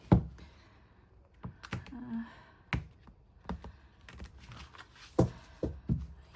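Tarot cards shuffled by hand during a pick-a-card love reading, giving scattered soft riffling clicks and thumps in irregular bursts, close and fairly quiet, with no talking.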